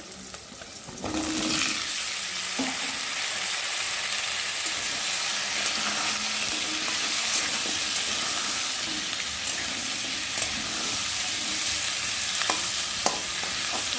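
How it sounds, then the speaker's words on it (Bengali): Potatoes frying in hot oil in a pan for egg curry, a loud continuous close sizzle with intermittent stirring clatter, no talk over it. "আর এখন আমি ডিমের ঝোলের আলুগুলো দিয়ে ভালো করে ভেজে নেব।"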